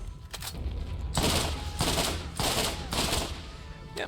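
A shotgun fires in the shooter Borderlands: four or five heavy, booming blasts at a slow, even rhythm with short gaps between them, loud and close.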